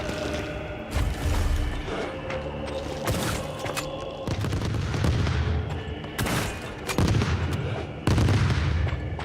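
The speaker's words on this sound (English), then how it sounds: "Just going to use my exploding shotgun." Booming blasts from an exploding shotgun in a video game, a series of heavy loud shots roughly every second or two over a dense background of game combat noise.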